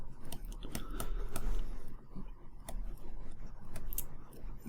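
Pen writing out a logarithm question by hand, heard as quiet, close scratching strokes and small clicks in uneven bursts, with no speech.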